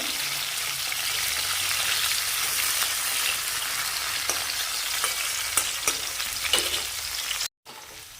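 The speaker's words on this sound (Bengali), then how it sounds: "দিয়ে হালকা আঁচে আমি নাড়াচাড়া করব" Carrot pieces sizzle softly in a pan over a very low gas flame with no added water. A spatula stirs them with scattered scrapes. A brief dropout comes near the end.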